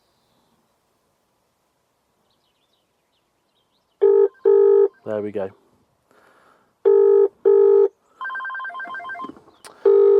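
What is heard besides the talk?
car phone ringing after being dialled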